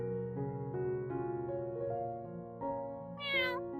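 A cat meows in drawn-out, mournful calls. Each call rises and falls and ends in a higher, thinner cry. The sound is close and clear, with no talking over it.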